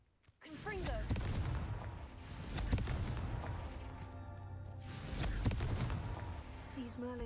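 Explosive Confringo spell blasts from Hogwarts Legacy go off three times in a row, each a loud booming burst over dense game effects and music.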